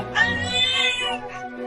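A cartoon cat meows in a high, drawn-out voice-acted call that rises and falls over about a second, close and clear; it is likely a human voice imitating the cat.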